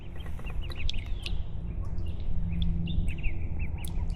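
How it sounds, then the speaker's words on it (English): High-pitched peeping calls of mallard ducklings repeat in quick, scattered chirps over a steady low rumble of a nearby boat motor. "Little baby mallard. Here comes the whole crew."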